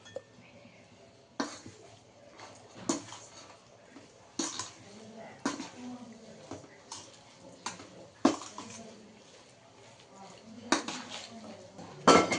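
Grated mango pickle being mixed by hand in a metal bowl, with a series of clinks and scrapes at irregular intervals, close and fairly quiet, and brief voice sounds between them.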